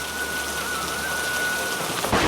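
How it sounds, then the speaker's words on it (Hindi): Heavy cartoon rain pours as a dense, steady hiss with a faint whistling tone running through it, ending in a brief louder burst. "इतनी भारी बारिश हो रही है।"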